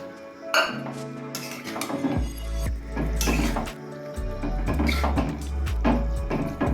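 Boiled dal with soaked chana dal, cooked in a pressure cooker, goes into a pan for egg tadka, with metal clinks and clatter over a low rumbling, sloshing backdrop.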